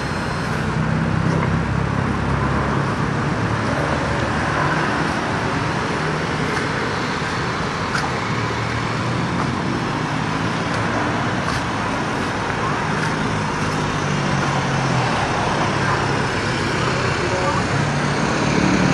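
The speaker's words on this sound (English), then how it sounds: "I should imagine it's all the traffic on the road" Continuous road traffic roars by on a busy street on a hot day, a dense, steady wash of engine and tyre noise with occasional passing vehicles, with a voice speaking over it.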